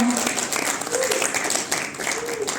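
A short burst of applause at a Rotary Club district conference, hands clapping from a small group under a speaking voice, moderately loud and close.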